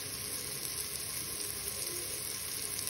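Masala sizzles steadily in a pan while being fried for green chicken pulao, a continuous close, even hiss with no talk over it.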